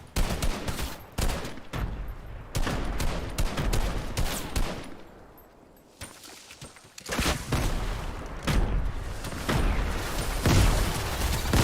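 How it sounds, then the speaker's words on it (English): Grenades going off in a Fortnite match: a dense run of sharp blasts and crackling bursts, loud and close, tumbling over one another with a brief lull midway before more explosions pile in. "Oh, that was their nades?"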